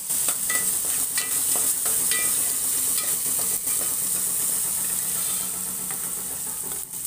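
Cut green chilies and tomato frying in a home kitchen pan for catfish curry, a loud, steady sizzle with frequent stirring scrapes and clicks throughout, no talking.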